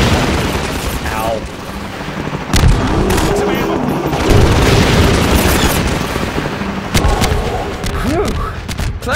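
Gunship gunfire from the Half-Life 2 video game rattles in loud bursts with heavy booms, layered over constant game noise and clatter, with a player's voice briefly heard among the action.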